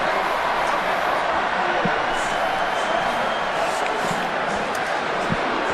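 Rugby union crowd at a Wellington stadium cheering during Australia versus USA, a broad, constant wash of distant voices and shouts with no clear peaks, heard from afar.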